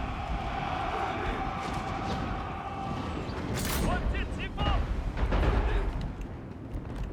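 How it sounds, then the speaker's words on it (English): Trebuchets fire at targets in the video game Total War: Three Kingdoms, heavy thuds and crashing impacts building through a busy battle din, with someone talking over it. "trebuchets can start shooting at these targets that we make"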